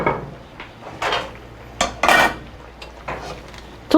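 A stone bowl for braised kimchi pork ribs being handled in a kitchen: several close knocks and clinks of hard dishware spaced irregularly, with light scraping between them.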